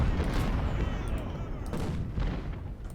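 Artillery fire in the Ultimate General: Civil War video game, a dense rumble of cannon booms and distant gunfire rolling continuously, with a couple of sharper blasts rising out of the din.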